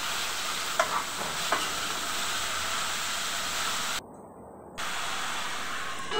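Sliced ridge gourd stirred in hot oil with onions and chillies gives a steady, close sizzle with a few soft stirring scrapes near the start. The frying noise runs continuously, with one brief dip near the end.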